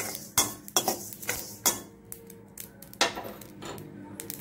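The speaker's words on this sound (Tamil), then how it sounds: "நல்ல பொன்னிறம் வரைக்கும் இதை வறுத்துடுவோம்." Mustard seeds and urad dal roast in a pan, heard as a run of sharp metallic clinks and scrapes of a spoon against the pan, fairly close and spaced unevenly.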